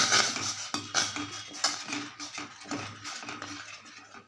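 A spoon stirring a flour mixture in a metal vessel for payasam, with close, quick metallic clinks and scrapes repeating steadily against the pot.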